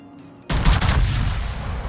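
Naval guns firing from a battleship in World of Warships, a sudden loud booming salvo that erupts after a quiet start and rolls on as a sustained rumbling barrage.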